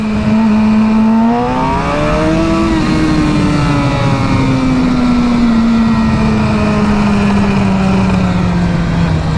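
A Suzuki GSX-R750 K7 motorcycle rides through traffic, its engine droning loud and close throughout, rising in pitch as it revs up and then easing into a steady, gradually falling tone.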